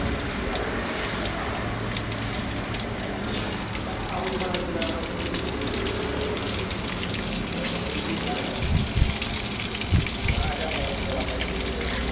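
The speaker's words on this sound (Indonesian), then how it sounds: "Kita panasin minyak untuk goreng si ikannya." Stingray fish sizzles in hot oil for sambal ikan pari, a steady crackling hiss throughout with a few louder pops near the end.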